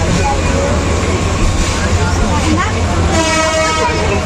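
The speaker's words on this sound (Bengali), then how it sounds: "ট্রেন এখন ঝিঙ্গির ঝিঙ্গির ঝিঙ্গির ঝিঙ্গির করে চলে যাচ্ছে" A passenger train travelling to Srimangal in Bangladesh rumbles loudly and continuously along the tracks, heard close from on board, with tonal horn-like sounds rising near the end.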